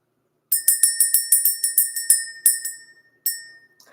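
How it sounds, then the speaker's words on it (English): A small bell is rung to clear energy, struck in a quick, even series of about a dozen bright rings, then two more after short pauses. Each ring sounds clear and close, with a short decay and no talk. "Let's ring the bell."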